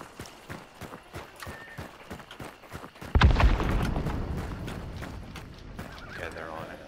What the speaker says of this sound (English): Other side by the horses.